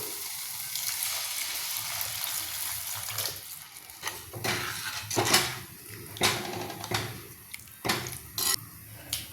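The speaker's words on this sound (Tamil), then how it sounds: "சுடுநீ ஊற்றிக்கோ." Hot water pours in a steady hiss into a pot of chicken kuzhambu with pepper powder and coriander leaves, then gives way to splashes and a few clinks of cookware.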